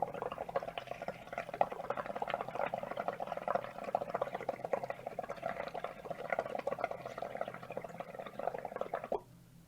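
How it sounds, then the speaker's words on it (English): Bubbling and gurgling as air is blown into leftover soapy bathwater in a bathtub, a steady busy fizz of bubbles running for several seconds near the microphone, then stopping abruptly just before the end. "So I'm going to blow in that to create some bubbles."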